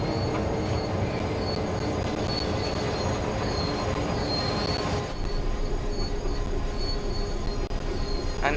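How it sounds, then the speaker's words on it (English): Network Rail rail head treatment train braking on approach to a stop, a loud continuous rumble of wheels on track with thin high-pitched brake and wheel squeal running over it and occasional clicks. "take the throttle off and start putting the brake on"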